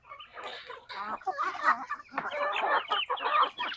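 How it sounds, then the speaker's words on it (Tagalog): Native chickens, around three months old, clucking and squawking in quick overlapping bursts close by, a busy flock with no talk over it. "kita nyo naman yung ating mga manok."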